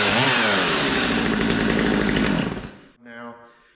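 Hard-to-start Stihl MS250 chainsaw running: a loud, close, raspy two-stroke engine buzz that cuts out abruptly after nearly three seconds, followed by someone talking.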